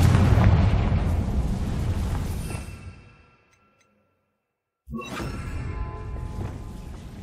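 The Confringo spell blasts in Hogwarts Legacy, a heavy rumbling explosion that decays over about three seconds into near silence, followed by a second burst of crackling, booming noise.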